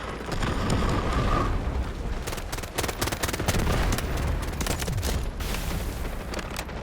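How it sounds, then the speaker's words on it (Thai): Rapid bursts of gunfire and explosions in the shooter game Delta Force, dense cracking shots overlapping loud booms and rumble throughout, with no speech. "ชักปืนแล้ว ยิงเลย"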